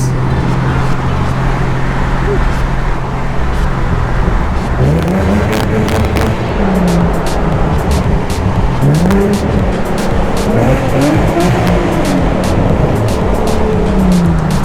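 A car engine rumbles loudly and continuously through a tunnel with the windows down, with a rising and falling rev and echoing road noise in the enclosed space.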